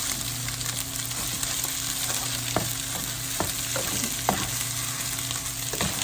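Leftover day-old rice stir-fried for egg fried rice, a steady close sizzle with repeated scraping clicks of a spatula against the pan throughout, no voices.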